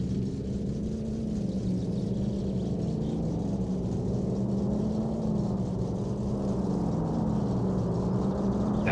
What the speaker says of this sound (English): Here comes the loud car